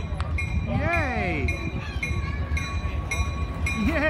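A Christmas train to Gouldsboro decorated with a wreath rumbles and clinks nearby, with bright whistling, horn-like tones sounding over the rolling clatter while excited voices talk and cheer.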